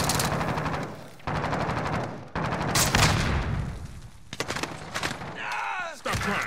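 Heavy gunfire in Call of Duty Warzone Rebirth: loud bursts of rapid automatic fire with sharp single cracks, broken by short pauses, with a whistling, sweeping effect near the end and a player's voice calling out over the shooting.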